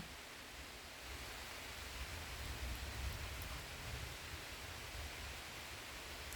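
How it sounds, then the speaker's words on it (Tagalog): Heavy rain pouring outside, heard from a home terrace: a dense, steady broadband hiss of downpour with a low rumble underneath, continuous and fairly loud throughout with no voices. "Ang lakas ng ulan sa labas"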